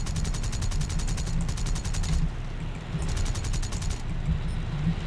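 20mm cannons on a B7A2 torpedo bomber firing in the War Thunder flight game over Saipan, a steady rapid rattle of shots in two bursts over constant loud engine drone.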